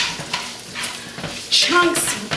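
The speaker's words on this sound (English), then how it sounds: "I'm going to put that into the other 2 tablespoons of olive oil that's been heating up in the pan" Chopped onion in rough chunks hits hot olive oil in a pan with a bright sizzle that swells partway through, mixed with stirring scrapes and a few utensil clinks.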